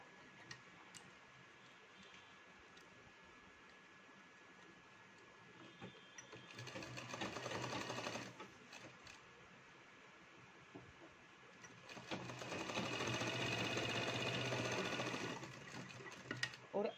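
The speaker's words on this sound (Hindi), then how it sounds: "तो यहाँ से हम कच्ची सिलाई लगा सकते हैं।" A sewing machine runs basting stitches on palazzo pants in two bursts of fast, buzzing stitching, the second longer, with quieter handling and ticks between them.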